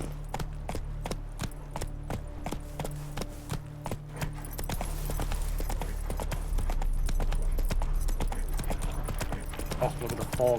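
Horse hooves clip-clop in a steady close rhythm while riding in The Witcher 3, with the beats growing quicker and denser into a gallop over a low rumble.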